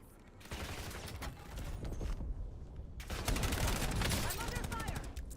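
Dense rapid gunfire in Call of Duty Warzone, sustained automatic bursts and overlapping shots filling the whole stretch, loud and close with a brief dip before a heavier volley.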